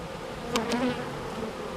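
Honeybees buzz in an open beehive during a pre-winter inspection, a close, steady droning hum with a brief louder swell as a bee passes near.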